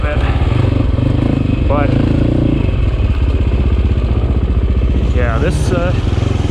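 A Sherco dirt bike engine runs steadily and loudly close by after pulling over on a trail during a demo day, with brief talk over the engine.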